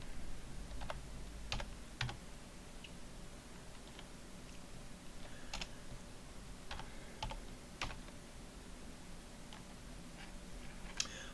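Someone types on a computer keyboard while writing C++ code, with sparse, irregular key clicks at close range over quiet room noise.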